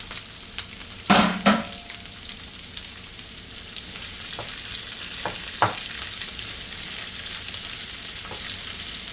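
Sausages, onion and vegetables sizzle and fry steadily in a pan, with a few sharp clatters of stirring near the start and scattered knocks later.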